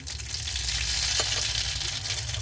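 Mustard seeds sizzle in hot oil inside a pressure cooker, a steady, close frying hiss that holds for the whole stretch with no talking.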